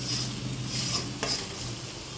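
Goat head curry sautés in a pan with a steady low sizzle, and one brief scraping stir comes near the middle. No one speaks.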